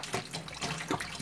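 Water runs from a tap into a bottle with a steady, close gushing hiss and no voices.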